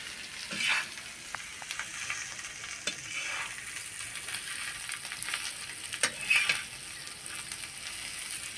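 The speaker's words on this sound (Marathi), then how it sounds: "तर यामध्ये आता बटाटे टाकू आपण बारीक केलेले तर हे आता बराच वेळ असे परतून घ्यायचे आहेत" Chopped potatoes with spices sautéing in a pan: a soft, steady sizzle with occasional stirring clinks and scrapes, close but fairly quiet.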